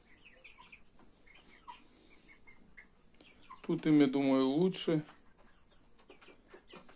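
Chickens cluck and murmur softly close by inside a closed coop, with one louder drawn-out squawk in the middle; someone speaks briefly in Russian over them.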